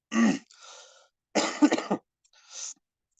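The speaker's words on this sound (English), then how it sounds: "please do excuse me if I cough now and then" Several harsh coughs from a sore throat come in short bursts, close and fairly loud, with brief silent gaps between them and a softer throaty cough near the end.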